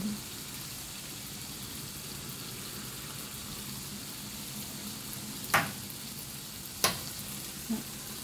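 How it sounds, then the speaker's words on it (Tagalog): An egg fries in a pan for breakfast with a steady, close sizzling hiss, broken by a couple of sharp clacks near the end. "Lagyan na rin natin ang itlog."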